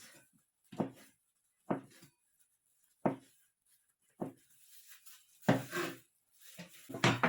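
A knife slicing roulade into long thin straw-like strips on a board, a series of separate soft cuts about once a second with a faster burst of chopping near the end, close and fairly quiet with no talking.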